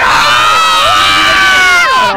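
Dense crowd of revellers shouting and cheering at Puerta del Sol on New Year's Eve, loud and close, with rising whoops and yells from many voices at once.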